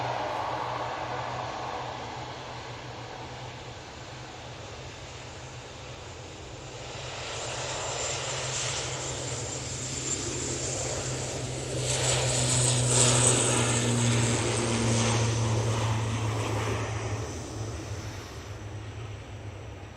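An ATR 42 turboprop airliner departing Manchester Airport from the full runway length, its propeller drone building from a low hum to a louder throbbing roar with a steady low tone, then easing off.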